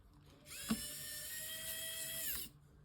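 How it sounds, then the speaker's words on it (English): A small electric screwdriver whirs steadily for about two seconds, driving a screw during a Nintendo Switch fan replacement; it is close and fairly quiet, with a click near the start. "so screwdriver. And this is the screw."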